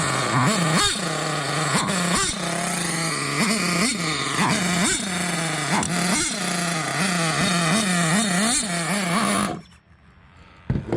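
Hobao Hyper 7 RC nitro buggy with a .28 engine fitted with an HPI carburetor, running loud and close with a buzzing, revving drone that rises and falls repeatedly, then cuts off abruptly near the end.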